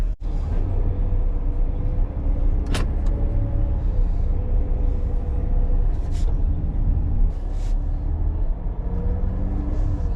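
A car drives along a road for about eight to ten miles toward a bike ride, steady loud road and engine rumble filling the whole stretch with a few brief higher whooshes and clicks.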